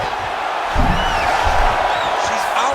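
A UFC 5 video game arena crowd roars and cheers after a grueling ground battle in a women's fight, a broad sustained swell with whoops, heard under an excited commentator talking.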